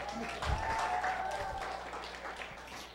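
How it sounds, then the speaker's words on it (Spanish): Audience applause during a religious teaching session, a quiet, diffuse patter of clapping heard somewhat distant, with faint room noise and a low hum underneath. "Un aplauso para Juan."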